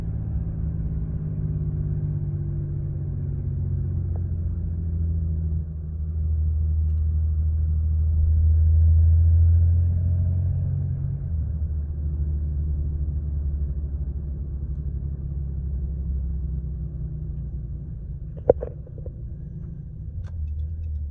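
A 2010 Cummins diesel truck with a tuned 68RFE transmission accelerates hard, its engine rumble swelling into a loud low drone from inside the cab and then easing off, with a brief sharp knock near the end.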